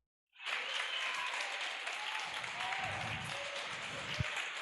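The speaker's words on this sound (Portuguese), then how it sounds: "Aplauda o Senhor aí, querido" A church congregation breaks into applause after near silence, and the clapping becomes a dense, sustained wash. Faint voices and a few shouts rise underneath, with one sharp thump near the end.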